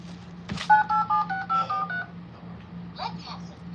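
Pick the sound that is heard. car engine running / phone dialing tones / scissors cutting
phone dialing tones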